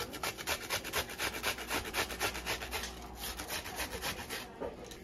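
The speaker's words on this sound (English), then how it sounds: "When you grate it in the meat, it actually gives it a more like stronger onion flavor" Onion is grated on a metal grater over meat, a rhythmic series of close rasping strokes, about two per second, steady and alone.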